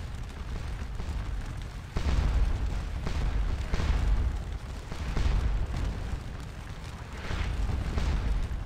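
Napoleonic-era artillery cannon fire and explosions on a Waterloo battlefield in Scourge of War: Waterloo, a video game, booming repeatedly in loud, rumbling bursts about every two seconds over continuous battle noise.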